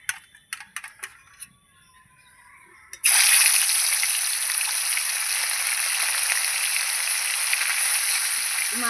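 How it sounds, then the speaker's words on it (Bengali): Fish heads drop into hot oil and fry with a sudden loud, bright crackling sizzle that holds steady for several seconds, after a few quieter clicks and taps. "প্রথমে আমি মাছের মাথা ভাজবো"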